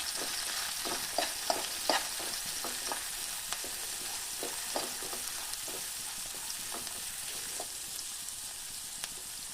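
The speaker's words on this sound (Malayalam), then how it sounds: "സവാള നന്നായിട്ട് വഴറ്റി കൊടുക്കാം." Chopped onions sauté in hot oil for a pepper chicken roast, with a steady sizzle and repeated clicks and scrapes of a spatula stirring the pan throughout, fairly close, with no talking.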